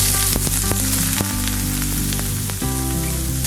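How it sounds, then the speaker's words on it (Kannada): Onion and mustard seeds frying in coconut oil in a pan, a loud, close, steady sizzle with crackling pops throughout. "ಈಗ ಸ್ವಲ್ಪ ಸಾಸಿವೆ, ಈಗ ಈರುಳ್ಳಿ ಹಾಕ್ಕೊಳ್ಳೋಣ."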